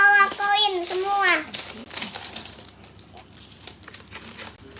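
Coins pour and clatter out of a broken-open piggy bank in a rapid jangling burst, with a voice and other people talking over the start.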